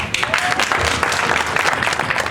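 Schoolchildren at a Bike to City Hall gathering applaud, a dense burst of clapping that runs steadily for a couple of seconds without talk.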